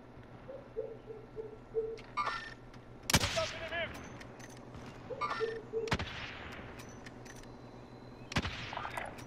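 Gunfire in a Call of Duty battle royale match, with several sharp single shots, including sniper-like cracks, spaced a few seconds apart over a steady background of game ambience and small electronic beeps.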